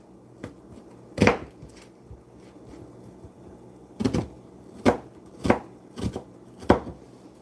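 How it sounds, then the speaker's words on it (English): A knife notches into an onion on a cutting board in a few separate, sharp chops: one early thump, then a quick run of five cuts spaced about a second apart in a quiet room. "You don't want to cut the onion the entire way. You just want to give it some notches."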